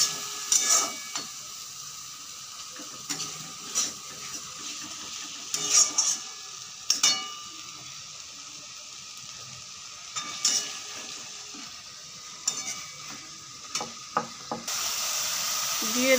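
Cumin, turmeric and soaked chili spice paste frying in a pan, a continuous sizzle broken by repeated scraping stirs and utensil clinks against the pan, close and fairly loud, with no talk.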